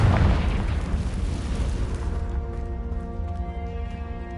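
Confringo fire spell blast in Hogwarts Legacy: a loud, close boom at the start that rolls into a long decaying rumble, with ringing tonal tails lingering as it fades.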